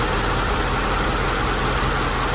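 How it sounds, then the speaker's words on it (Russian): A Mercedes W211 E500 with a swapped-in M113 V8 from an S500 runs steadily at idle, a constant broadband rumble with no revving, loud and close throughout. "Так, давай погазуем, посмотрим выхлопушку. Звук мотора."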